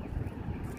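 Gusting wind roars into the microphone as a dense, low rumble, steady and close, with no speech, outdoors on a hot summer day in Saratov.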